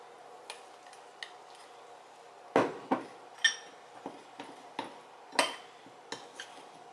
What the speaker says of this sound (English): I'm just gonna mix it together